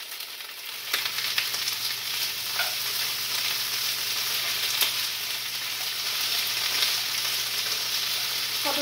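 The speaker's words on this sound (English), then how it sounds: "That's starting to sizzle." Steady, crackling sizzle of food frying in a hot pan, continuous and fairly loud, with occasional small pops and no talking.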